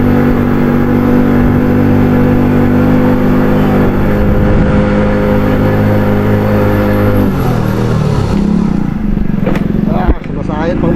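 A car engine, referred to as "power," drones and revs loudly and steadily up close, with the pitch shifting near the end as the engine scrapes along low.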